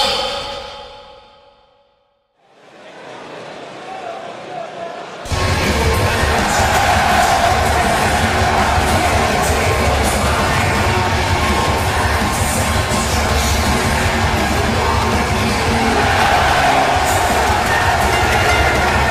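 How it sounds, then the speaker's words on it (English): A large arena crowd at a Sacramento wrestling event roars continuously and loudly, swelling in after a brief lull and holding a dense, sustained wall of cheering. "A loud crowd here in Sacramento at the Golden One Center"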